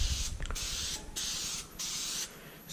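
Aerosol K&N air filter oil sprayed from a distance onto a reusable cotton air filter, heard as several steady hissing bursts separated by short pauses, with no talking.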